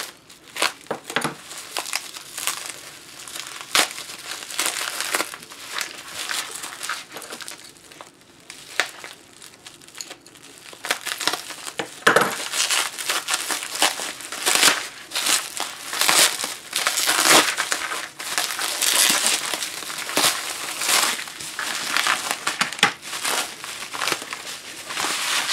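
Hands rummage through a plastic bag of QRP Labs QCX Mini radio kit parts, producing close, continuous crinkling and rustling with irregular sharper crackles and rattles for nearly half a minute.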